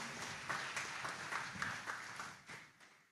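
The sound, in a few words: audience applause for the priest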